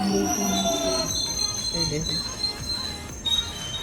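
Metal train wheels squeal on the rails near Greenwich in the UK, long high-pitched screeches rising and fading over a low rumbling rail car.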